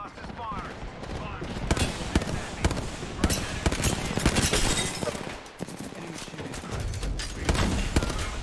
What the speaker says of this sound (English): Stand back, knuckle clusters fire.